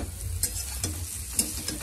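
Potatoes frying in a hot frying pan give a continuous soft sizzle, with several brief sharp crackles and pops spread across the frying.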